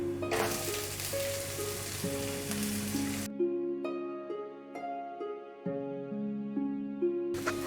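Chopped onion frying in oil in a pan while paneer lababdar is cooked: a dense crackling sizzle at the start and end, with steady background music playing throughout.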